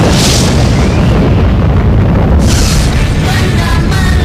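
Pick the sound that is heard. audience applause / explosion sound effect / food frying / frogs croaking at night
explosion sound effect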